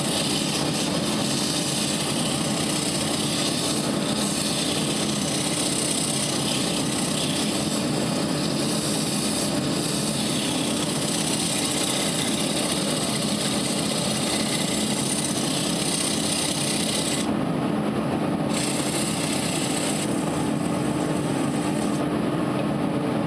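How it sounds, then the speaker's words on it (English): Sanding a spalted, winged beech bowl on a lathe at 120 grit gives a steady, continuous whirring hiss with a droning motor underneath, loud and close and unbroken for the whole stretch, with no talk. "So, let's get to sanding."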